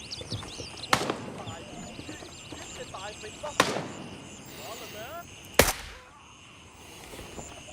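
Three sharp, well-spaced suppressed gunshots ring out in the military shooter game Gray Zone Warfare, each a hard crack with a short tail over a busy outdoor ambience of chirping birds.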